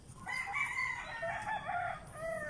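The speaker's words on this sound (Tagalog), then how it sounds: "andito ni ibang manok, yung Rhode Island and tsaka Black Australorp" Several Rhode Island Red and Black Australorp chickens cluck and squawk together in a busy, continuous chorus, close by, with no talking.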